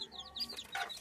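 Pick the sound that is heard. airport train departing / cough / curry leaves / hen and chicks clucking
hen and chicks clucking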